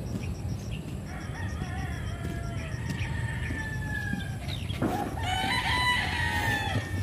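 A rooster crows loudly and close by over a steady background hum, with other fowl clucking and calling around it.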